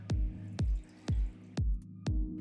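Water poured into a pan to start sugar syrup for a Lavazza tiramisu, heard as five evenly spaced, close plopping drips or splashes over a faint steady hum, no talking.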